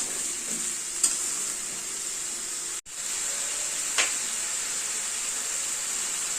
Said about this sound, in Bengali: সবজিটাকে ভাজা ভাজা করবো